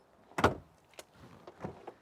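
A car door on a V8 British coachbuilt shooting brake estate shuts with one solid, close thud, followed by a couple of softer, fainter knocks and clicks.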